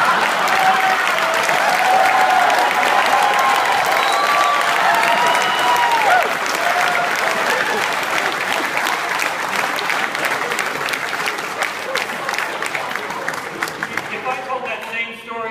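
A large crowd at a Babylon 5 cast reunion applauds long and loud, the clapping sustained and dense with scattered voices and cheers, thinning slightly toward the end.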